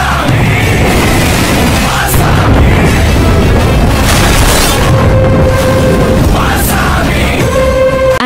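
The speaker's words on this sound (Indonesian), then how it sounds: "Anate meledakkan puluhan kendaraan milik perusahaan Manoj." Dozens of vehicles blown up in an action scene of an Indian film, heard as a loud, continuous wall of booming blasts and bursts with roaring rumble throughout, dense and sustained, with faint yelling mixed in.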